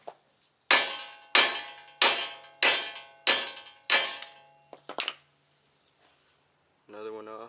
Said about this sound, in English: And then rotate it, hammer the next one off